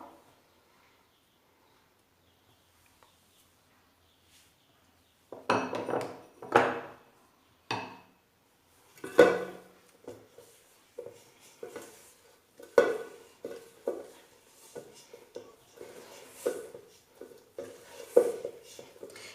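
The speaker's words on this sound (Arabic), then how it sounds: "نبدا نخلط بيدي، نحي برك هذا اللي في المغرفه" Hands mix a coconut sweet dough in a bowl, producing soft, close, irregular squelching and pressing noises that start after a few seconds of silence and continue in uneven pulses.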